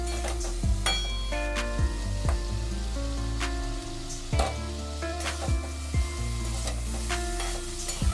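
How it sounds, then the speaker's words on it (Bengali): Beetroot, carrot and potato curry sizzling in a pan as it is stirred, steady frying hiss punctuated by periodic spoon knocks and scrapes against the pan, close up with no talk. "আবার একটু ঢাকনা খুলে নাড়িয়ে চাড়িয়ে দেখব যে সবজিটা একটু মজে গেছে কিনা"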